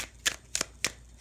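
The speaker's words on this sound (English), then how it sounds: "I'm going to shuffle 3 more times" Tarot cards being shuffled by hand, four quick crisp riffles at an even pace, close and clear with no talk.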